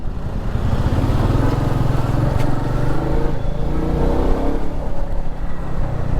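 Dense road traffic heard from the saddle of a Royal Enfield Meteor 350, with a steady roar of engines and passing vehicles close around. The motorcycle's own low drone runs underneath throughout, with no talk.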